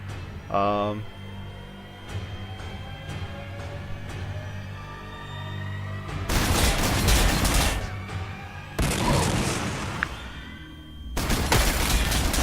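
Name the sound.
super cannon firing in video game Warhammer 40k Sanctus Reach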